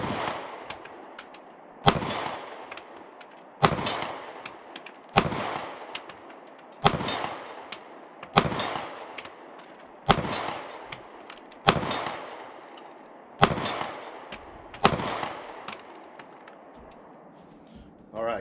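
Sig P365 pistol fired outdoors at a steel plate 35 yards away, about nine sharp loud shots at a steady rhythm a couple of seconds apart, each followed by a decaying echo.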